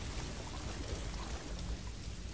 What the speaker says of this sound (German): Irgendwie hat das was, dass es hier so regnet.